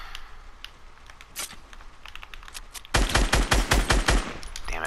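Gunfire in the video game Fortnite: a few scattered sharp shots at first, then a rapid burst of loud, evenly spaced shots in quick succession near the end.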